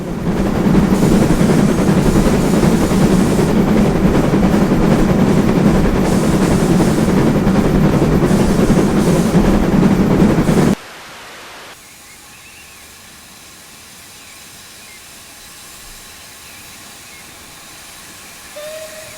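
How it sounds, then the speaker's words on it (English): LNER J72 steam locomotive in Train Simulator, loud dense hissing exhaust chuffs with a panting, wheezing edge for about ten seconds, then an abrupt drop to quiet low rumble and faint hiss. "you start to hear what sounds like panting or wheezing on top of the normal exhaust chuffs"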